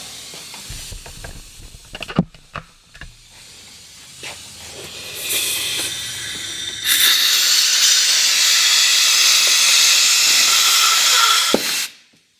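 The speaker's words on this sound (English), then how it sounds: "then just get the air nozzle, stick it in the other one" Compressed air from an air nozzle blasts into a drain hole on an old JAP outboard motor, starting with scattered clanks and short hisses before a loud, steady high-pressure hiss holds for about five seconds and cuts off abruptly.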